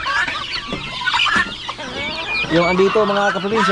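Turkey chicks and other poultry in a backyard pen chirp and cluck in overlapping bursts, with a few louder calls near the end, under ongoing conversation.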